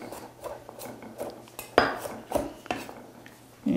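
A kitchen knife briefly chops garlic cloves into small pieces, making a run of irregular, close taps and knocks against the board. No one speaks.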